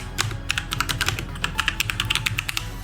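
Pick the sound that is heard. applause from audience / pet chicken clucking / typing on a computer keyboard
typing on a computer keyboard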